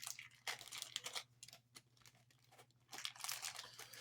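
Small light spacers pulled out of plastic packaging make close crinkling and rustling bursts of crackling plastic in short spurts with brief quiet gaps and no speech.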